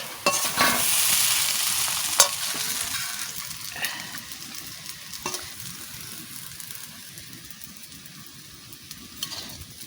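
Chow mein stir-fried in a pan, shop style, with steady sizzling and frying and repeated scraping, stirring strokes from the spatula, loud and close, with no voices.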